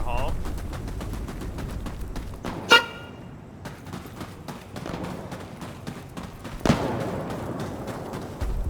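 A vehicle horn in a video game blares in two short honks several seconds apart, amid a busy background of game gunfire and engine noise.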